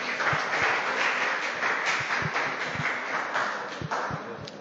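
Sustained, dense applause from a school awards ceremony audience, loud and continuous throughout with occasional sharper individual claps standing out.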